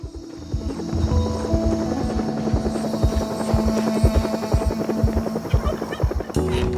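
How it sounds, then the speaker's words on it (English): A helicopter in the video game Project Zomboid, its rotor thumping in a fast, steady rhythm with a whining engine tone, sounding clear and fairly close throughout. "the distant sounds of a helicopter beat through the sky"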